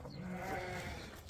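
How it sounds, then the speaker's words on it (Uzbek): A sheep from a flock of fat-tailed breeding ewes bleats close by in one drawn-out wavering call over a low background, with no talking. "Yosh qo'y."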